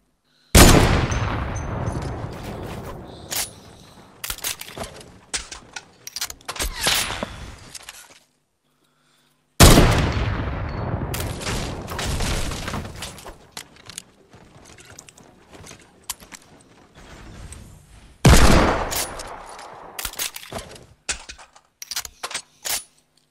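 Fortnite gunfire comes in three loud, close bursts of rapid shots, each trailing into scattered single cracks and clicks, with brief silent gaps between the volleys.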